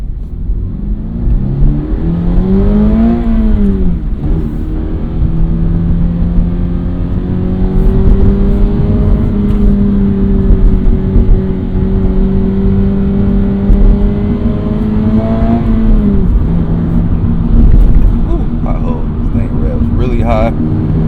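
A Toyota GR86 with a manual gearbox accelerates, its engine note rising and falling through the gears in a long steady drone, with a person talking over it.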